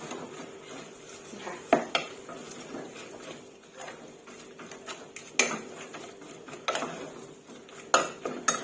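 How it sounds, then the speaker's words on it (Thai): Minced pork for larb being stirred in a pan over low heat, a soft continuous sizzle broken by several sharp clacks of the utensil against the pan. "อันนี้คือหนูกำลังล้วนหมูค่ะ"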